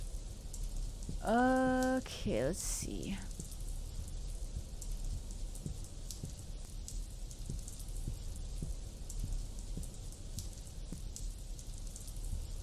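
Steady rain falls in the video game Fairy's Kiss Candlelight, a soft continuous hiss throughout, with a person speaking briefly near the start.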